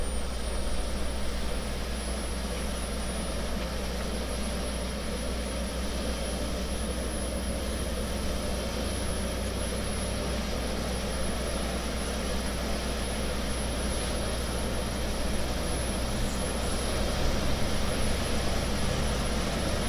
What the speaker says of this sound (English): we'll step outside and watch these rotors spin up